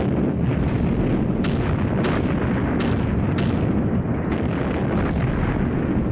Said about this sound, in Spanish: en menos de un minuto se levantó la salva de cañonazos más tremenda que haya visto nunca.